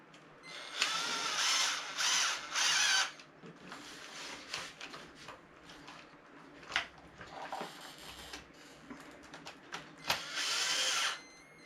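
A power tool re-cutting threads on a car suspension arm, whirring in short bursts of a second or two separated by quieter clicks and mechanical rattles, close and moderately quiet.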